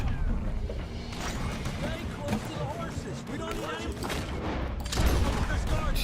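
Gunfire rattles in Red Dead Redemption 2 as repeated sharp shots and crashes sound over game noise, with a person talking throughout.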